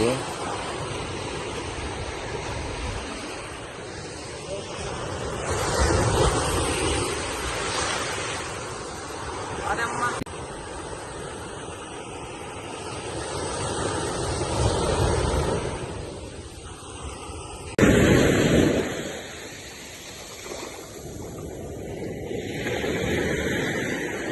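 Ocean waves on a fishing beach in Pondicherry roll in as a steady broad wash with wind buffeting the microphone, swelling and easing over time with one louder surge near the end.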